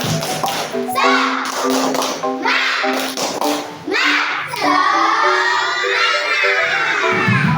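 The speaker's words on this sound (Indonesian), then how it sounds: "Tepuk semangat." Schoolchildren in a classroom do a rhythmic spirit clap, sharp patterned claps under their chanting voices, loud and close.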